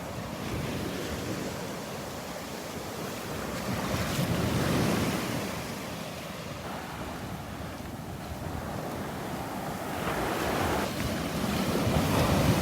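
Storm-driven Gulf waves crash continuously on the beach at Naples, Florida, a dense roaring wash that surges in a few louder swells, with wind noise over the microphone.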